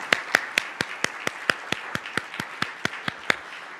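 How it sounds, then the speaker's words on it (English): A small audience claps for event sponsors at a university gathering, sharp distinct claps in a quick regular rhythm, fairly close and moderate in level, with no voices over it. "let's give all of our sponsors a big round of applause"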